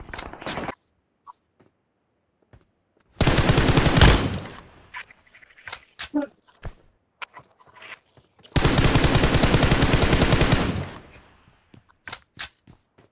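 Automatic gunfire in the mobile battle royale game PUBG Mobile, two loud sustained bursts of rapid rounds, each lasting about a second or two, separated by scattered single shots and quieter gaps, with no talking.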